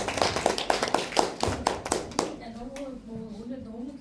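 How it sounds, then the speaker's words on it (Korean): A burst of audience clapping at a Korean business seminar, with sharp distinct claps in an irregular rhythm that fade out after about two seconds, and a voice speaking into a microphone as the applause dies away. "큰 박수로 부탁드립니다."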